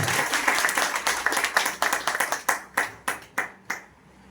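Crowd applause at a political meeting in Tharad for speaker Jakshiji Thakor, a burst of many hands clapping that thins into a few scattered, separate claps before fading out.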